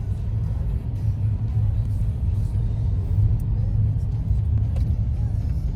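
A car cruising along a road in Okinawa, driving on the left, with steady low engine and tyre rumble throughout and no breaks.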